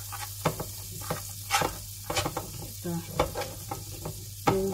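Margarine melts and sizzles in a hot pan while a utensil stirs and scrapes it, with soft steady frying hiss broken by irregular clinks and scrapes; a voice speaks briefly.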